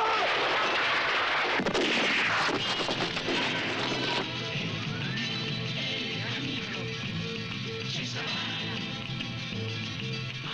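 Loud gunshots and heavy bangs from the 1969 western Sabata crack out in irregular bursts over a full, busy trailer soundtrack.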